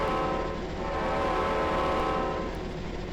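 Horn of an E8A diesel locomotive in Train Simulator Classic, a steady loud multi-tone blast sustained for about three seconds with no voices.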